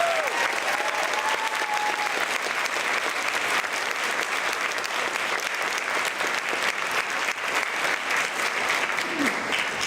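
Sustained audience applause at a high school academic awards evening, steady dense clapping from a large crowd throughout, with faint voices mixed in.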